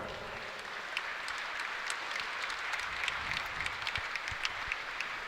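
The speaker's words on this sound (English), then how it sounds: "I give a big round of applause to Carson Sapp" A crowd at an indoor archery national championship applauds archer Carson Sapp, a steady wash of clapping at moderate distance with a few sharper individual claps standing out.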